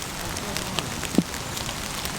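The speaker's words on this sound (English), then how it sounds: "just have a relax and listen to the rain on the tarp" Rain patters steadily on a canvas tarp over a bushcraft camp, a soft continuous hiss with scattered drips and one louder close tap, under a quiet outdoor background.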